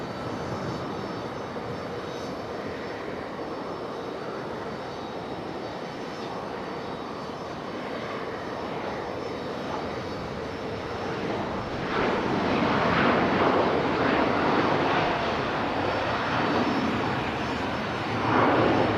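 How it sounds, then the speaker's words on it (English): An American Airlines Boeing 737 arrives at Raleigh-Durham International, a steady broad jet roar that builds louder toward the end as it passes nearby, with no talk. "our next arrival. It's American 737"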